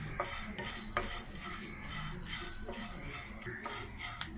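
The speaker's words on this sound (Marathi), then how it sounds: "पोहे भाजूया." A spoon scrapes and stirs poha that is being dry-roasted in a pan, giving a soft, continuous rustle with occasional sharper scrapes at a steady, unhurried pace, fairly quiet and close.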